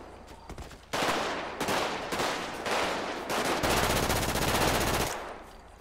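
Sustained automatic gunfire in GTA FiveM, loud and close, with dense rapid bursts running for several seconds and separate volleys leading in before it.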